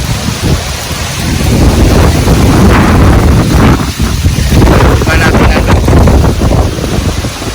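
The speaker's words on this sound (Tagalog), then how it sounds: "Grabe ang lakas ng hangin" Strong wind roars and buffets the microphone continuously at a poultry farm in Glan, Sarangani Province, a dense, loud rush of noise with gusting surges throughout.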